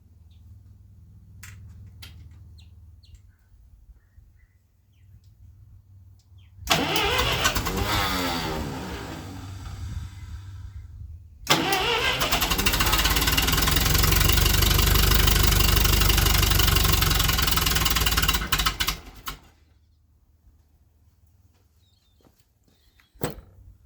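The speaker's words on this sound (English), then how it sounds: "let's see if it'll crank now with a little extra gas in it" A Ferguson TO20 tractor engine, freshly given extra fuel, cranks in a loud burst, pauses, then catches and runs roughly at a steady idle for several seconds before cutting out, leaving near silence.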